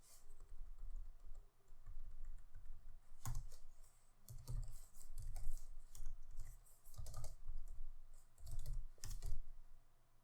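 Python code being typed on a computer keyboard, with steady close-up key clicks in bursts and a few heavier keystrokes, no talk.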